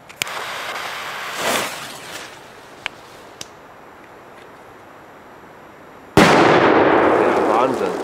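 A Gorilla Bomb firecracker, a Polish-made Polenböller, is lit: the fuse fizzes with a few small pops, then after a pause comes a single loud, sharp blast followed by a lingering roar.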